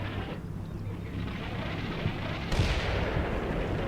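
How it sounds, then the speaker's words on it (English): Artillery shells from the game Combat Mission rumble in as low, distant booms, a few dull thuds spread across the span and one heavier, brighter blast partway through over a steady background rumble. "as you can hear, artillery is falling along this line"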